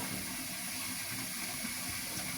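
Tap water runs steadily over a wooden spoon being rinsed at a sink, a continuous close splashing hiss with no talk.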